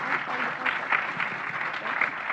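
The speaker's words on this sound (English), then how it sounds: "please give them a round of applause for all of the effort that they have put into this" Brief burst of audience applause at a spring student presidential and vice presidential debate, dense steady clapping lasting a couple of seconds.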